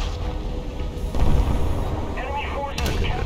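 British naval guns on HMS Enterprise fire in War Thunder gameplay, with loud booming reports and mechanical clanks under a dense rumbling din, one heavy blast standing out among overlapping fire.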